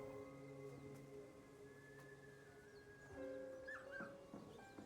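A dog whimpering in the video game Kunitsu-Gami: Path of the Goddess, with soft, faint whines rising over a steady droning game soundtrack, no talk.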